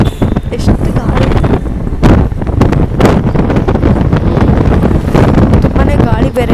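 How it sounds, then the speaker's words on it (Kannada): Strong wind buffets the microphone in heavy, continuous roaring gusts, with a person talking underneath, mostly drowned out. "ಸೊ ಗಾಳಿಗೆ ಏನೂ ಕೇಳಿಸ್ತಿಲ್ಲ, ಅದಕ್ಕೆ ಎಷ್ಟು ಗಾಳಿ"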